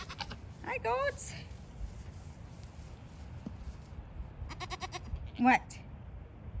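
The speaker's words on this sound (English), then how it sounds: "Hi, goats." Goats bleating in a farmyard near a coop: one wavering bleat close by, then a second, louder one a few seconds later, over steady outdoor noise with some faint clattering between them.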